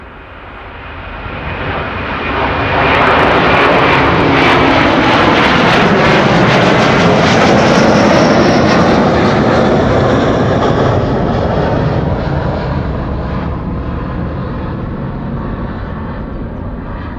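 A Delta Airbus A330 jet takes off at Amsterdam Schiphol, its engine roar building over the first few seconds, holding loud and sustained, then slowly easing as it climbs away.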